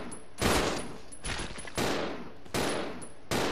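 Four heavy bursts of gunfire from the video game Resident Evil 0, spaced roughly a second apart, each loud, sharp and close, with short decaying tails between them.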